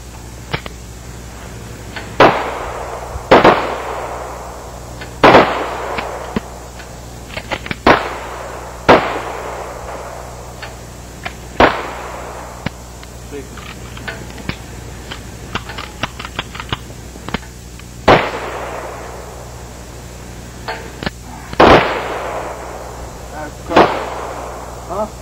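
Handgun shots fired on an outdoor training range, about nine sharp loud reports spaced irregularly a few seconds apart, each with a short ringing decay, with faint background noise between them.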